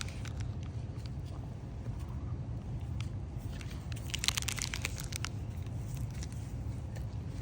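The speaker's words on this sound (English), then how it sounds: "Why do dogs eat sticks?" Close, irregular cracking and crunching of a dog chewing and splintering a wooden stick, with sharp snaps scattered over a steady low background rumble.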